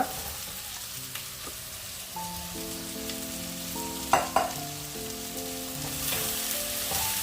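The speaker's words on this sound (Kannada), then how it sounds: "ಈಗ ಇದಕ್ಕೆ ಕಟ್ ಮಾಡಿಟ್ಟ ತರಕಾರಿಯನ್ನು ನೋಡಿ ಹಾಕುವ" Cut vegetable marrow frying in a pan with softened tomato masala: a steady, close sizzle with a couple of brief utensil clatters midway and faint tonal background sound underneath.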